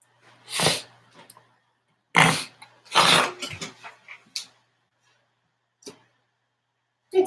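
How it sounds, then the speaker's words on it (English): A person coughs in several harsh, wet bursts with pauses between them, close and fairly loud against an otherwise quiet room, followed by a few faint throat sounds. "I've had this cough for so long"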